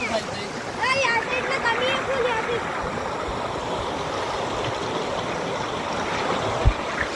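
Fast-flowing water rushes steadily through a forest stream, forming a continuous broadband roar, with a brief whistle-like call early on and a sharp knock near the end.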